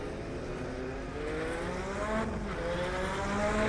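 Race car engines in a sim racing game at Spa with Group C cars, a dense steady roar of several engines revving and droning together, rising slightly in pitch and loudness as the cars accelerate.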